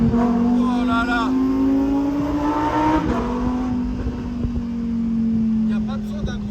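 Lamborghini Huracan Performante Spyder engine droning steadily with a strong, even hum and rising revs, reverberating through a short tunnel; people's voices sit faintly in the mix.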